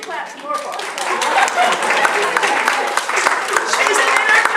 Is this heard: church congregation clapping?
yes